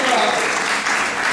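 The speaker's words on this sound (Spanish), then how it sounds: "Le damos un fuerte aplauso a nuestro señor que me va a acompañar." An audience at an entrepreneurship talk gives a loud, dense round of applause for a volunteer joining the speaker on stage, a continuous burst of many clapping hands, close and full for its brief length.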